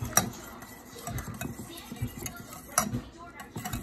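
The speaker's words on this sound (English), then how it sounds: "we're going to whisk it" A whisk clinks and taps against a bowl while mixing a honey chipotle sauce seasoned with chipotle and a little salt, with two sharp metallic clinks over soft scraping, fairly quiet and close.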